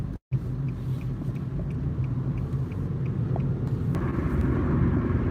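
A car in traffic behind a truck, heard from inside as a steady low road rumble and engine drone that holds throughout after a brief cut at the start.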